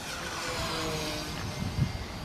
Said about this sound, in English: Nice fast flybys there.